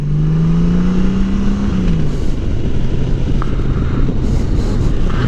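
Harley/Honda motorcycle ridden across salt flats, a loud close engine note that climbs in pitch, then drops and settles into a steady drone buffeted by wind noise.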